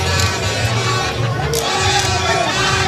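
Dense crowd of fans at a beach soccer match between Ghana and Côte d'Ivoire in an Africa Cup qualifier, a loud steady roar of voices and chanting filling the whole moment with no clear break.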